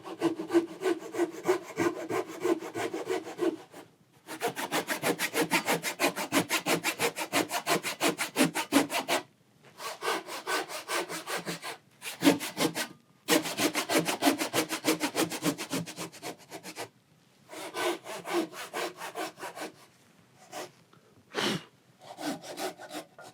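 A Japanese hand saw cuts wood in carpentry, guided by a block of wood held against the shoulder line, in long runs of quick, even push-pull strokes broken by short pauses, close and loud with no talk.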